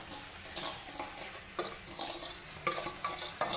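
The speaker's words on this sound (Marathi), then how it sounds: "हे लिंबू याच्यामध्ये टाकायचे, चिरलेले पाकामध्ये टाकायचे चिरलेले लिंबू।" Chopped lemons being stirred into sugar syrup in a pan over a low gas flame: a low sizzle with repeated scraping stirs, soft uneven strokes close by, and no talking.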